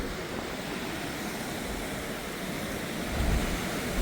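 Niagara Falls roars from close by, a dense, unbroken wall of rushing water that stays loud and even throughout, with no speech.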